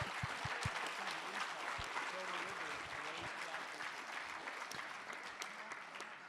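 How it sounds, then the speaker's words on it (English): Audience applause rolls steadily through a panel discussion hall, dense and continuous clapping from a sizable crowd with a few faint voices mixed in beneath it. "A round of applause for our happy answers."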